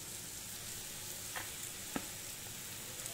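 A soft, steady sizzle comes from vegetables frying in a pan as boiled, strained macaroni goes in, with one faint clack in the middle and only light movement. No voices.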